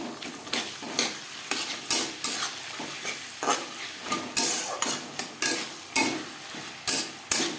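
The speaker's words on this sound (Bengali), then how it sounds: "মশলার কাঁচা গন্ধ যাওয়া পর্যন্ত নাড়াচাড়া করে নেব" A spoon stirs a mixed vegetable curry with ginger and green chilli paste in a pan, making quick, rhythmic scraping and clinking strokes over a constant close sizzle, with no speech.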